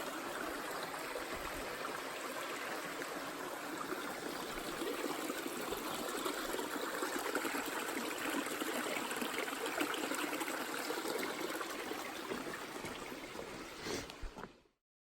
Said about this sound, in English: This is a nice bridge and a beautiful stream.